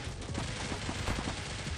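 Rapid MP7 gunfire in the mobile shooter Critical Ops, a dense, continuous burst of shots filling the whole stretch at close range with no talking.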